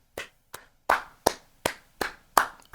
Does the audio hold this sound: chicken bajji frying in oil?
no